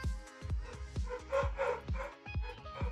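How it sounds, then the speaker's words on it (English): Dogs bark repeatedly in quick, sharp bursts at close range, loud and insistent with some yips mixed in, and no talking. "Bro, my dogs are going like crazy."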